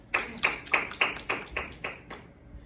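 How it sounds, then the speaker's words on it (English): A small church congregation gives a clap offering: roughly nine sharp, evenly spaced claps from a few hands, close and distinct, slowing and fading toward the end. "Let's give them a clap offering."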